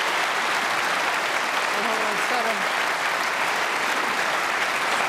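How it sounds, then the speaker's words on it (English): A snooker crowd at the Crucible applauds in a sustained, dense wave of clapping, with a commentator speaking briefly over it. "And the crowd have continued applauding as he pots the black and hammers it in."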